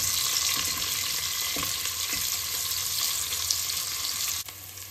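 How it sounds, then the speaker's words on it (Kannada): Onions fry in a pan with fennel seeds and cumin, a dense, steady sizzle close by, with a few soft stirring scrapes and a brief dip near the end. "ಆಲ್ಮೋಸ್ಟ್ ಗೋಲ್ಡನ್ ಬ್ರೌನ್ ಆಗಿದೆ ಈರುಳ್ಳಿ."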